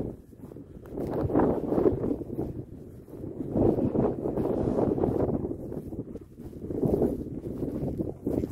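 Wind gusting over the microphone at a campsite in Cerro Sombrero, Chile, with surging waves of low rumbling buffets that rise and fall every few seconds, fairly faint and with no talk.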